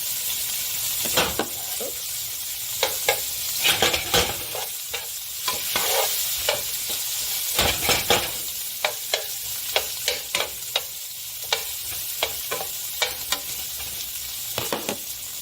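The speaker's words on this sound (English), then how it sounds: "In the same pan, I'm going to add our broccoli." Broccoli stir-fries in the same pan used for beef, a continuous sizzle broken by frequent sharp clacks and scrapes of a utensil against the pan, close and fairly loud.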